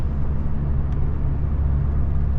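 A truck rolls into a downtown area, its steady low road rumble and engine drone continuous and fairly loud throughout, with no voices over it.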